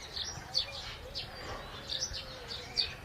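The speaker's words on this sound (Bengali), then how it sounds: "Amazon parrot" A pet Amazon parrot giving several short, high chirping calls spaced through an outdoor park, moderately near over a soft ambient background.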